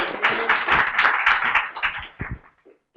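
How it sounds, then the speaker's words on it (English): Clapping from a small conference audience for a speaker, a brief burst of moderately loud claps that thins out and fades by the end. "Round of applause for Lewis."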